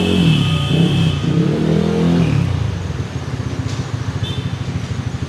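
A Yamaha NMAX 2.1 scooter with an upgraded throttle body and JVT gearing revs up loudly nearby, then drops back to a steady, rapidly pulsing idle.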